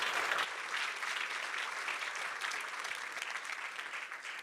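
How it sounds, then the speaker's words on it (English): A conference audience at a cryptography talk gives a speaker a steady round of applause, many hands clapping in a dense patter that holds for several seconds and eases slightly toward the end. "Another round of applause for Albert"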